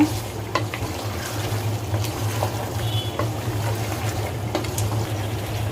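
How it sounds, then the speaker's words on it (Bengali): Tomato and garlic paste frying in a pan for shahi beef curry, heard as a steady close sizzle with light scraping strokes of a spoon through the thick paste. "রসুন বাটাটা দিয়ে পাঁচ মিনিট নাড়াচাড়া করব"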